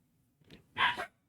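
Agitated dogs bark in a short burst at close range during a thunderstorm, a quick yip followed by a louder doubled bark, with nothing else in the gap before it.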